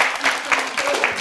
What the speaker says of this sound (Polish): I brawa dla was